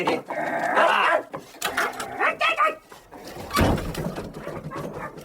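A man in an audio drama of Dickens's The Old Curiosity Shop imitates a dog with gruff barks and growls, loud and close, mixed with shouted dialogue and other voices.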